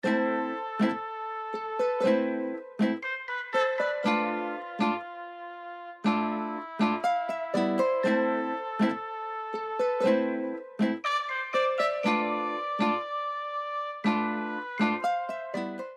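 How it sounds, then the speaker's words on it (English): Bright software glockenspiel bells from Analog Lab ring out a steady, repeating melody, layered over a fuller musical arrangement with sustained lower tones. "Added these bells, which are glockenspiels from Analog Lab."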